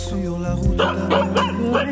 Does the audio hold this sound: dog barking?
yes